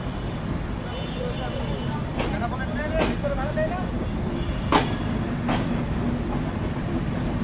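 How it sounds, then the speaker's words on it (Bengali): The Chitra Express pulls out of Jessore Junction railway station, with a steady low rumble of wagons and a few sharp rail clicks and squeals close by. "আমরা এখন ডিপারচার নিচ্ছি যশোর জেলার যশোর জাংশন রেলওয়ে স্টেশন থেকে"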